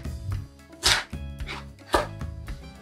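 A knife chops chives into 3 cm pieces for an egg dish with oyster sauce: a few sharp, separate chops land about a second apart on a board, close by, over a steady low background hum.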